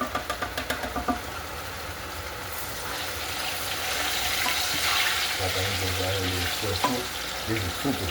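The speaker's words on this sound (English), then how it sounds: "Give this a little stir." Ripe plantain fries in a pan and gets stirred, with quick knocking taps at the start, then a continuous close sizzle and scraping movement, plus a low hum near the end.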